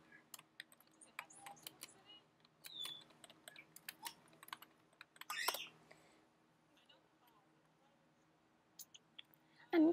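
Someone types on a computer keyboard, making scattered quick clicks and short bursts of keystrokes with pauses, quiet and close, and a voice is briefly heard at the very end.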